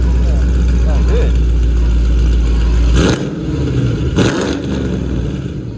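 A loud Shelby GT500 engine with catless race pipes rumbles and revs close by with deep exhaust tone, then drops off abruptly, followed by quieter engine noise with voices talking.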